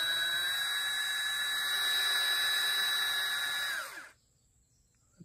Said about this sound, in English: So you take the drill and start twisting.